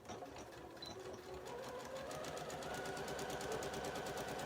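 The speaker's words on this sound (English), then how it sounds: "And now we're just going to sew along the fly extension. So I'm going to sew it up real quick" Close up, a sewing machine hums in one continuous run as it stitches along the fly extension of a garment, with a fast even needle rhythm throughout.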